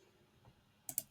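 Two quick, crisp mouse clicks close together, quiet and near, following a faint soft tap on a computer.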